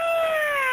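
A cat meows once, a drawn-out descending cry heard up close during an emergency call, alone with no talking.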